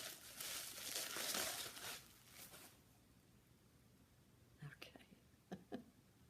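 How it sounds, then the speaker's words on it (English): Plastic packaging of a mail-ordered item crinkles and rustles as it is unwrapped, a dense burst in the first few seconds followed by a few sharp crackles near the end. "Sorry for the crinkling."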